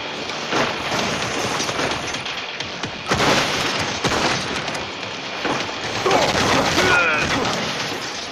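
Dense machine-gun fire and blasts from the shooter game Modern Combat 4: Zero Hour, loud continuous bursts with heavier crashes, close and filling the whole stretch.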